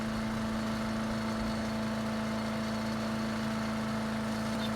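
A Harbor Freight Predator chipper shredder engine running steadily at a little over half throttle, a constant droning hum with a strong steady pitch, heard from about six feet away with no talk.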